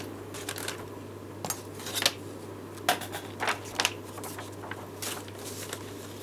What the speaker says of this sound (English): Put that in my trimmer, trim that a little bit off.